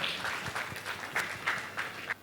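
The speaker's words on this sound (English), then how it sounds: "Please a round of applause once again for them." A round of applause for speakers at an EdTech talk, with sparse, uneven claps from a small audience that rise and fall in a few bursts, moderately loud in the room.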